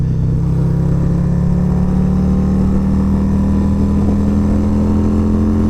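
A 2023 Harley-Davidson Road Glide ST with a 131 kit roars steadily at high power, its deep, loud engine drone filling the ride with no talking.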